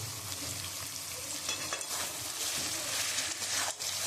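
Chicken sizzling and frying in a kadai with coriander leaves and chilies, a steady, close hiss with light stirring scrapes throughout.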